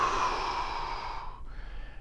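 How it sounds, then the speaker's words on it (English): A person exhaling slowly and audibly while hinging forward during a standing posture exercise, a soft, close, sustained breath out trailing off over about two seconds. "and then breathing out"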